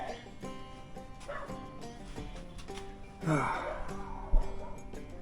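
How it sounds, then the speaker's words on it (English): A dog barks at something outside, with a few short, fairly loud barks and whimpers, while a man works on the rear end of a 1989 Ford F-150 pickup and speaks over them. "What are we barking at out there,"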